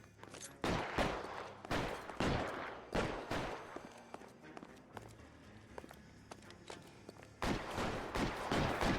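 Gunfire crackles through a shootout in the video game L.A. Noire: repeated sharp shots and short bursts, some in quick clusters, with a lull in the middle before heavy firing resumes.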